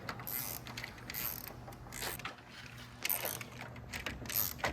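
A cheap AliExpress ratchet extension turns a rusty 13mm bolt, giving a continuous rough grinding and clicking with bursts of harsher mechanical noise every second or so, close and steady.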